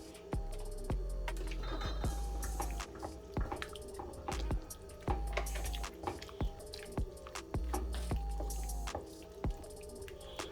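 Ketchup being stirred into a pot of Trinidadian stewed red beans: wet, squishy spoon scrapes and gloopy sloshes repeating in an uneven rhythm, close and fairly quiet, with occasional clinks against the pot.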